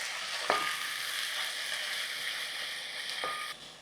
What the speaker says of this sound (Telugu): ఇప్పుడు టైం టు ప్లేస్ అల్లం వెల్లుల్లి పేస్ట్